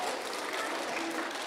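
Children at a university lecture for kids clap for themselves in a steady, dense burst of applause that fills the whole moment, with some voices mixed in.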